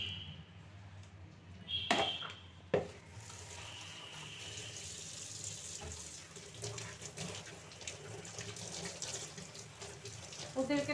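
Tap water runs into a sink while small statues of Ganesh, Buddha, Saraswati and Radha-Krishna are washed, a steady splashing stream with occasional clatter of handling.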